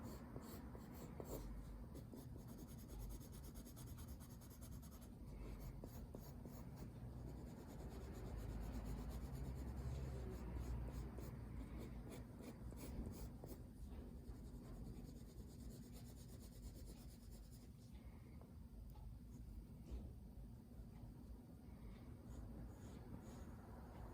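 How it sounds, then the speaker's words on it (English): Soft 5B graphite pencil moving across paper while sketching an eye, a steady close scratchy rubbing of continuous strokes with no talking. "I'm going to switch to a 5B pencil and show you how to do that. This is a 5B, it's a little bit softer."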